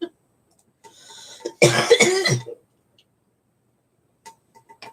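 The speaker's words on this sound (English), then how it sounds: "Still coughing. Still dying." A single loud, close cough burst, preceded by a faint breathy rasp and followed by near silence with a few tiny clicks.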